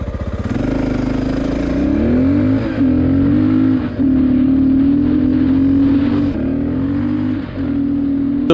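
A 600cc Honda XR600R dirt bike engine revs loud and close on a ride, a steady throaty drone rising and falling with throttle blips around the third and fourth seconds, continuous with no talk.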